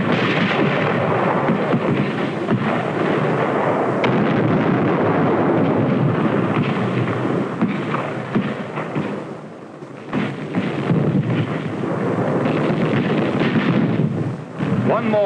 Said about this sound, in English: It took only a few moments of firing to empty these shell cases.